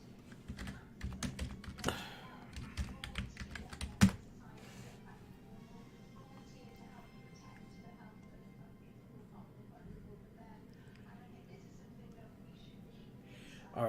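Keys clatter on a computer keyboard in a quick, uneven burst over the first four seconds. A sharp louder strike closes the burst, and low steady background noise continues after it.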